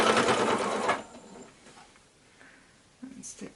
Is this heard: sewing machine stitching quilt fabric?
yes